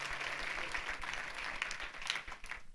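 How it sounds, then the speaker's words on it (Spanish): A congregation at a church service applauds steadily, a dense patter of clapping that carries on evenly and fades slightly at the end. "Denle un aplauso al Rey de la Gloria conmigo en este momento"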